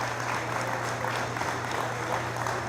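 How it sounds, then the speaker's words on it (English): A crowd gathered for an airport safety-system commissioning ceremony breaks into steady applause, continuous dense clapping that fills the space evenly with a low hum underneath. "If you give him a round of applause."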